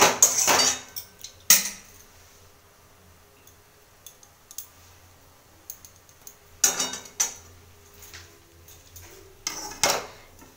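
A spoon stirring sweet potato kheer in a pot, with sharp metallic clinks and scrapes against the rim coming in irregular bursts, close and clear between quieter stretches.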